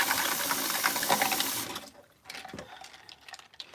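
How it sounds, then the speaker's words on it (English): Paint brushes being rinsed in hot water in a spouted bowl: a rushing splash and pour of water for over a second, then quieter scattered sloshing and drips, close and alone. "Then I'm going to rub these around in this hot, clean water"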